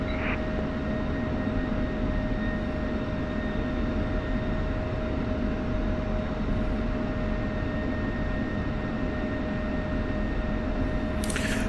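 F-16 jet in DCS World taxiing toward the runway, a steady, continuous engine drone with a sustained high whine, loud and unbroken throughout with no talk.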